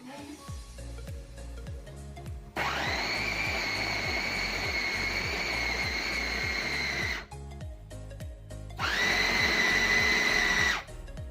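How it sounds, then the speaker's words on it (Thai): A blender blending ice cream mixture runs loudly for several seconds, stops briefly, then whirs again at a higher pitch, over a steady ticking beat of background music. "ก็ใส่ลงไปในเครื่องปั่นเลยค่ะ"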